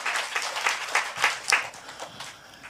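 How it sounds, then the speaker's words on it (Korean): A church congregation claps in thanksgiving to God, a soft, scattered patter of hands at moderate distance that swells briefly in the middle and then thins out. "우리 하나님께 감사의 박수 올려드리는 저와 여러분 되시면 좋겠습니다"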